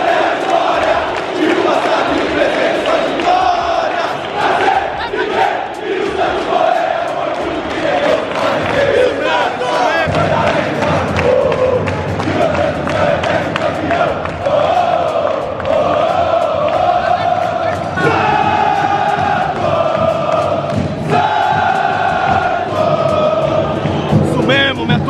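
Santos football supporters packed in the away section at a match, a dense crowd chanting and cheering loudly and continuously, rhythmic voices massed together with a steady roar throughout.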